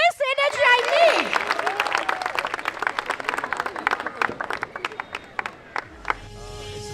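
A crowd at a school annual sports meet claps and cheers, with a whooping voice at the start and an announcer talking over scattered, uneven applause.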